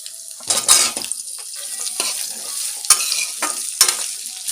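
Chopped onion dropped into hot oil with cumin and fennel for an egg gravy, hissing and sizzling steadily while a spoon scrapes and clinks against the pan in several close, sharp bursts.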